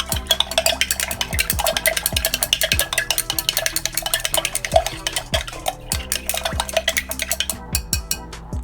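Glycerin being stirred into a green tea and mango facial mist, a spoon clinking and scraping steadily against the container in a quick, repeated rhythm, close and fairly loud, with no voices.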